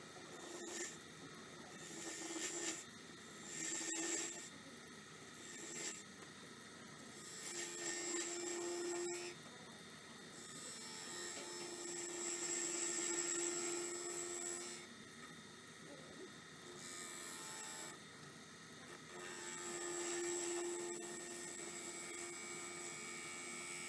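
A wood lathe turning an acorn box, the tool rubbing and scraping the spinning wood in repeated passes with a steady hum between cuts, close and moderately loud, no voices.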